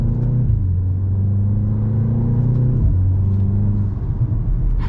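A 2025 BMW M235 Gran Coupe accelerates hard in sport mode, its engine a loud, close droning rumble that climbs through a gear change near the three-second mark, heard from inside the car.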